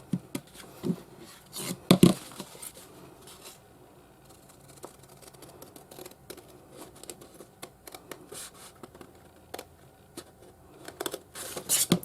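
Scissors snip through a folded 12x12 paper sheet along its crease while making a mini journal, giving a handful of close, sharp cuts and soft paper rustles spread unevenly with quiet gaps between them.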